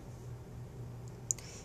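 A single sharp computer mouse click on a browser search bar, faint and near, heard alone over a low steady room hum.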